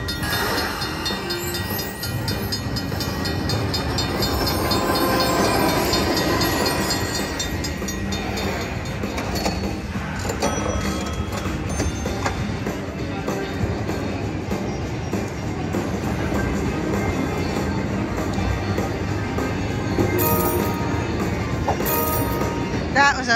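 Train sound effect from a slot machine train bonus, a dense, steady rumbling clatter with hissing that runs loud and unbroken for the whole stretch, amid casino machine noise.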